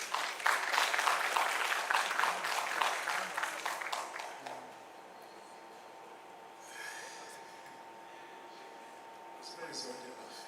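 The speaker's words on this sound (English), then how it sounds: "A round of applause for you, please." Applause at a memorial requiem mass: a crowd claps fairly loudly for about four seconds, then it fades to quiet room tone with faint murmurs and small stirrings.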